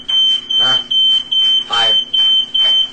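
A cartoon fire alarm goes off with a rapid, steady electronic beeping that repeats about twice a second. It is loud and continuous, with voices talking over it.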